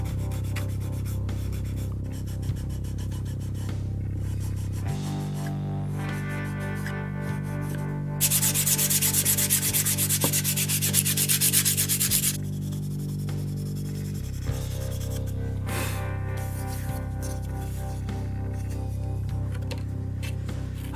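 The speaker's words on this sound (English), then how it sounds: "now we're sanding the body with 180 grit" A ukulele kit body is sanded by hand with 180 grit sandpaper in steady back-and-forth rubbing strokes, close and fairly quiet over a low background hum, with a brief louder hiss partway through.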